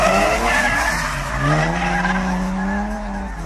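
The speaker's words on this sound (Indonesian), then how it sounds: "ini adalah mobil balap" A toy race car gives off a skidding sound effect, a loud, wavering tire squeal with sliding tones over a steady engine-like rumble that lasts a few seconds without speech.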